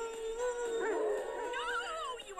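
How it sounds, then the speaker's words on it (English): Animated animals howling and yipping in a rising, wavering chorus, several voices overlapping and sliding in pitch over a busy film soundtrack, with a brief spoken voice in the mix. "You're gonna start a howl!"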